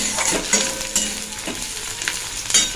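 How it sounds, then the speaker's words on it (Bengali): Onions fry with black cumin seeds in a pan for a Bengali egg curry, giving a steady close sizzle with occasional light scrapes and crackles of stirring. "দেখো এখানে আমি ডিমের ঝোলের জন্য পেঁয়াজ ভাজতে বসিয়ে দিয়েছি, কালো জিরে আর পেঁয়াজ ফোড়ন দিয়েছি।"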